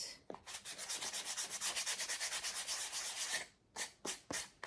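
A fine grit sanding block is rubbed lightly over a laser-cut piece in quick, rhythmic back-and-forth strokes, a soft, close scratching that pauses briefly and then resumes with a few more strokes.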